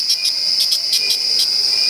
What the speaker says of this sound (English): You hear that? If you live anywhere but Antarctica, you have those near you. They're called cicadas.